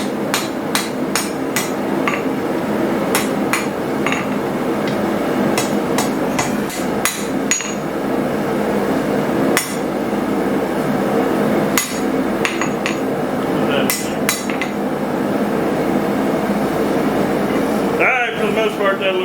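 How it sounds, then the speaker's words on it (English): Repeated ringing hammer blows on hot iron at an anvil while forging a trammel hook for campfire cooking, strikes coming in quick irregular bursts, loud and close, with steady shop noise underneath. "Now we can clean it up a little on the anvil."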